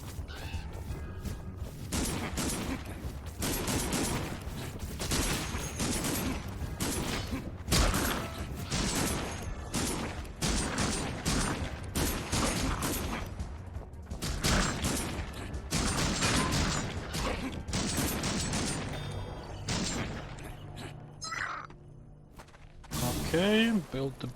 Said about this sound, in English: I need a different weapon. Let's go with the gun.